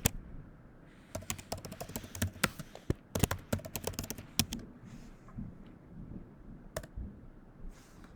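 Bursts of clicky keyboard typing, irregular and close, pausing and resuming, with some rustling between keystrokes.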